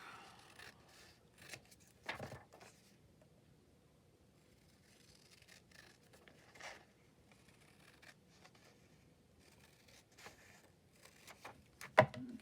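Quiet, intermittent snips and crisp rustling as scissors cut through paper, scattered irregularly with soft handling sounds between.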